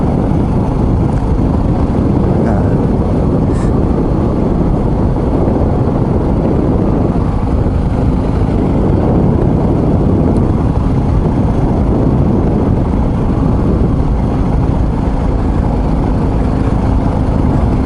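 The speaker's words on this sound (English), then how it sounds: "So the engine at these low revs is just beautifully tractable." A BMW R1250 GS Adventure boxer engine idles along at low revs while the motorcycle cruises down a gentle descent, a steady low rumble buried under heavy, constant wind roar with no talking.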